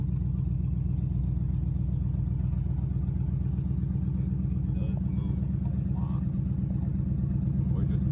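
An old Packard car rolls slowly around a parking lot, its engine a steady low rumble throughout with people talking over it.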